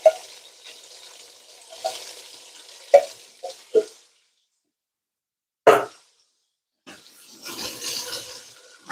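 A pot of oxtail simmering with coconut milk is stirred, giving scattered spoon clacks and scraping bursts with quiet gaps between them, then a longer rough rustle near the end.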